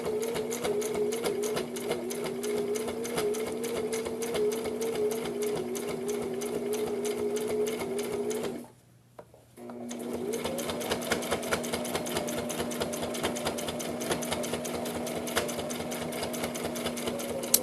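A sewing machine stitches the edge of a fabric face mask, a loud, close, steady chatter of needle strokes over a humming motor that pauses briefly around the middle, then resumes.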